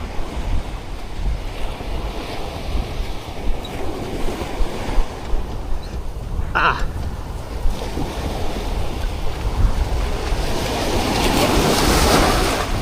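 Rough Pacific Ocean waves wash and surge against a small boat, a continuous loud roar of water mixed with heavy wind buffeting the microphone, swelling louder toward the end.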